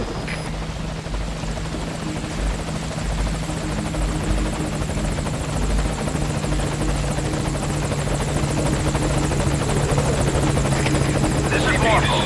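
A helicopter approaches a landing zone in Metal Gear Solid V: The Phantom Pain with a steady, droning rotor buzz that grows slightly louder, while radio-style voices talk over it.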